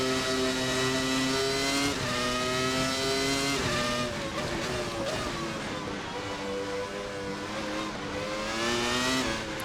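Williams FW19 Formula 1 car in a racing game, engine screaming at high revs under power with steady rising and falling pitch through gear changes, loud and close with no voices.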